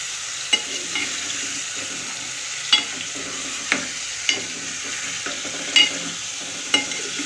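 Beef frying in a pot is stirred, producing a soft continuous sizzle with sharp scraping clacks of a spoon every second or so, close and moderately loud.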